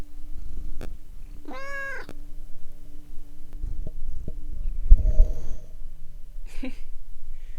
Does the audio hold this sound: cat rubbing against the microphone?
yes